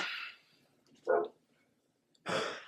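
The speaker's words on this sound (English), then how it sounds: "As soon as my dog goes outside, she barks to come back in." A single dog barking outdoors to be let back inside, two or three separate short barks with quiet gaps between, fairly close, no talking.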